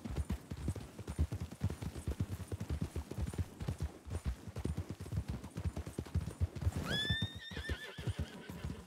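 Horse neighing and hoofbeats in a ranch roleplay video game, with steady clip-clop footfalls running throughout and a loud whinny near the end.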